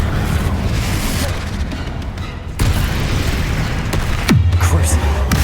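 Confringo blasting spell explosions in Hogwarts Legacy, loud booming blasts over a dense rumbling background, with a sharp impact near the middle and another heavy blast toward the end.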